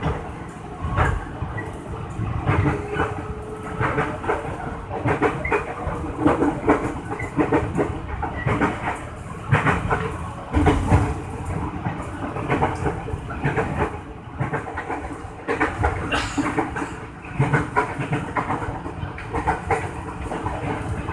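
JR 205 KRL commuter train leaving Tanjung Barat station toward Lenteng Agung, heard from inside: steady rumbling wheels on rails with rhythmic clickety-clack over joints and a faint hiss, continuous throughout with no talk.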